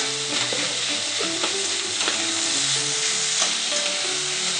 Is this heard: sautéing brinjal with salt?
yes